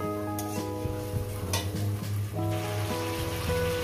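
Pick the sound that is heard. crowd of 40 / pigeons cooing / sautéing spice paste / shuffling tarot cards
sautéing spice paste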